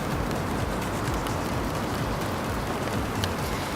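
Rain falling in Hiroshima near the castle on a hot day, a steady broadband hiss of drops on surfaces with faint scattered patters, continuous and moderately quiet, no talk.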